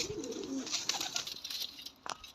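Freshly caught wild birds, likely pigeons or doves, coo softly and close by in a short low phrase, with faint rustles and a brief knock near the end.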